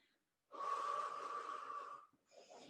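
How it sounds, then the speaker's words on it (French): A long, forceful breath pushed out during a seniors' strengthening workout, a steady rushing exhale of about a second and a half, close and fairly quiet, followed by a shorter breath. "On serre bien son ventre, toujours. Allez, soufflez bien."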